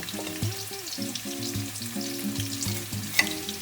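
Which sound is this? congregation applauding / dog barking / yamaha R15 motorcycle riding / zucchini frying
zucchini frying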